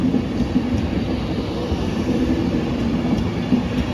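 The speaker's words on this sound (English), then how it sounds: "But that's very rare to see an Avanti go through platform 4 on the slow at Kidsgrove." An Avanti train running through platform 4 on the slow line at Kidsgrove station gives a steady, close rumble of wheels on rails with faint clickety-clack, and nobody speaks.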